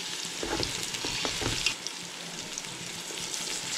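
Green chilies sizzling as they are sautéed in fried onions for duck biryani, a steady close crackle and hiss with a few stirring scrapes, no voices.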